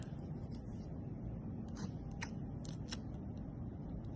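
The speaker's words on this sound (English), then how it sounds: "take the scissor and make a cut" Scissors snipping through a folded paper strip, a few quick crisp cuts close by and faint against a low background hum, with no talking.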